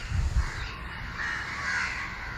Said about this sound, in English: how you hear the crows